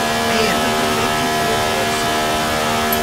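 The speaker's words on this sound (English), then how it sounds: "The car's revving at some high RPMs there." A high-revving racing car engine from a racing video game whines steadily at high RPM without pause, a dense, continuous mechanical roar.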